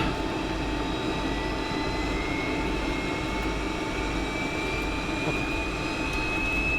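A 1976 Boeing 727 jet engine running steadily just after start, heard from inside the cockpit as a constant loud roar with a whining tone that slowly rises in pitch.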